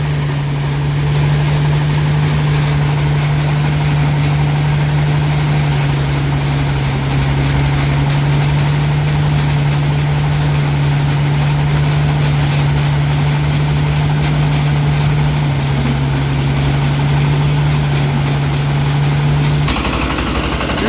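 A tractor's diesel engine idles steadily and loudly, a low constant rumble throughout with no other sounds.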